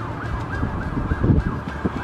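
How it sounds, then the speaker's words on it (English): A siren wails faintly in the distance over low rumbling background noise, its pitch sweeping slowly up and down. "Do you guys hear those sirens?"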